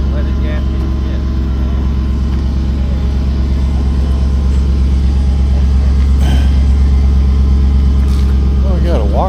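A Waco vintage airplane engine runs at an air show, a loud steady low droning hum that continues throughout, with people talking nearby.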